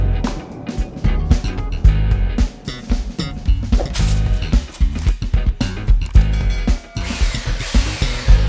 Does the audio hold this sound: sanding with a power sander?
yes